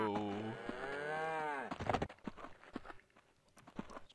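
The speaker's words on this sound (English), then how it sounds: "More cattle." A cow in the video game Survival Craft lets out one long, deep moo lasting over a second, then footsteps crunch along at a steady pace on their own.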